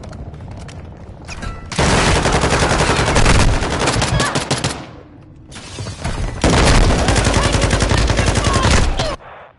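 Automatic gunfire in Call of Duty: Modern Warfare II, two long loud sustained bursts of rapid shots separated by a short pause, close and harsh, with a softer lead-in before the first burst.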